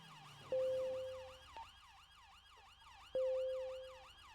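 Police car siren in GTA V FiveM roleplay, a wailing electronic siren sweeping up and down continuously with two long horn-like blasts, fairly loud and alone with no talk.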